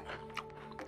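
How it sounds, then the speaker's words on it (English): Short wet chewing and crunchy bites from the game Resident Evil Village, a few quick close mouth clicks over a faint steady tonal hum, no talk. "The chewing sound effect"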